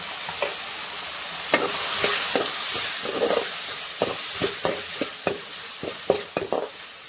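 Tomatoes with salt and turmeric cooking in a pan make a hissing sizzle, broken by a run of sharp clinks and scrapes from stirring, close up and with no talk.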